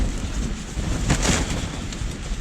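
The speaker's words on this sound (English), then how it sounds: "The wind's picked up a little bit, so we'll have to see how this tent holds up." Strong wind buffeting a tent on a solo wild camp in the Lake District, a steady loud broadband roar with gusty swells, close to the microphone and with no talking.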